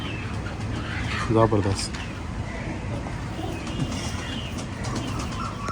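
Young pigeons cooing softly in a loft amid a steady background hum, with someone speaking over them.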